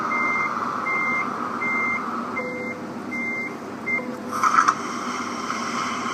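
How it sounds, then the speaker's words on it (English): A truck's reversing alarm in Euro Truck Simulator 2 sends out six evenly spaced electronic beeps over a steady engine drone, followed by a brief louder rumble, with no talking. "Reverse. Beep."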